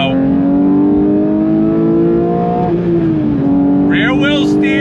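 A 992 Porsche 911 GT3 Touring with its 4-liter naturally aspirated flat-six pulls hard under throttle, a loud steady engine note rising in pitch with a brief dip like a gear change, and a voice speaks briefly at the end.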